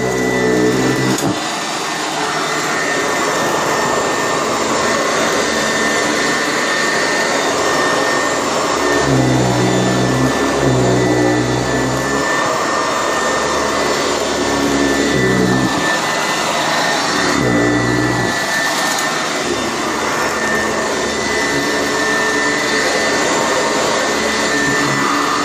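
A Sanitaire SC886 upright vacuum cleaner runs on a thin carpet rug with a loud, constant whine and roar, its pitch dipping briefly several times as the head is pushed and pulled.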